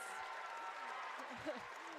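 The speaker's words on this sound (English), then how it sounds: "we got the crowd cheering for Maddie right now going into the game" Crowd noise fills a college men's basketball gym during a late free-throw situation, a steady broadband roar of cheering that holds level throughout with a brief swell midway.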